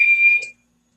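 A tea kettle's shrill steady whistle, loud and close, sounds for about half a second and then cuts off abruptly into silence.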